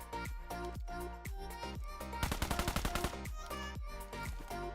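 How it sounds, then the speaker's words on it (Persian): Gunfire in the mobile battle-royale game PUBG Mobile: single sharp shots in an uneven rhythm, then a rapid automatic burst, then more spaced shots, loud and close with no talking. "اینجا دقیقاً زمانیه که باید شلیک کنید"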